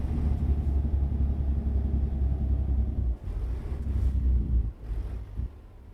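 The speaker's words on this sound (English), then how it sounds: "Use the engine brake to slow it down." In a trucking video game, a truck's engine brake holds the rig back as it slows, giving a steady low rumbling drone with a couple of brief dips, loud and close with no talking.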